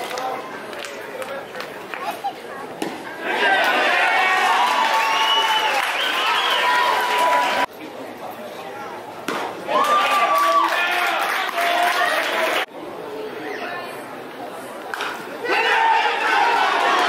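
A crowd at a high school baseball game between Princeton and Tarboro roars and applauds loudly in sustained bursts with brief lulls, people shouting over the din.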